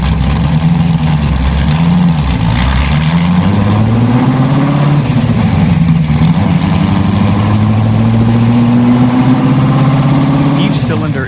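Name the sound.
1965 Ford GT40 replica 4.7-liter V8 engine starting and revving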